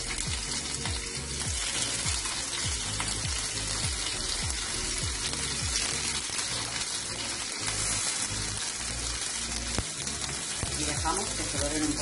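Shrimp sizzle and fry steadily in hot olive oil for a rice dish with clams, a continuous loud crackling hiss that fills the whole stretch without letup, with faint stirring or kitchen clatter mixed in.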